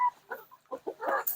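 Backyard chicken house with laying hens giving a few short, close clucks in a loose irregular rhythm, quiet bursts separated by brief pauses and no talking.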